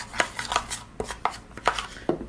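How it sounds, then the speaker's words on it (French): A spoon mixes black clay mask ingredients in a small bowl. It gives a brisk run of sharp clicks and scrapes at an irregular rhythm, close and fairly loud, with no voices. "Je vais venir mélanger. Je vais mélanger l'ensemble."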